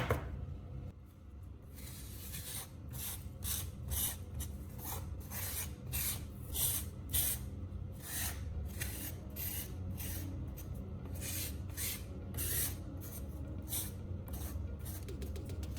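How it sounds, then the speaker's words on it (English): Charcoal stick rubbed against sandpaper and ground into fine black powder, a steady run of rhythmic dry scraping strokes, close and fairly loud, repeating for the whole stretch with no talk. "rub it against sandpaper until you've got a pile of fine black dust"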